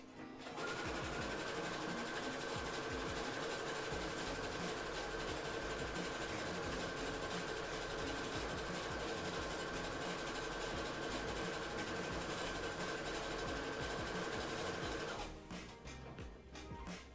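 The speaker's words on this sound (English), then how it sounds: "I'm basically just doing a basic stitch on all of these skirts right now" A sewing machine runs a basic stitch along the edges of cosplay skirts, humming steadily at close range for about fifteen seconds with a fast rhythmic needle chatter, then stopping abruptly.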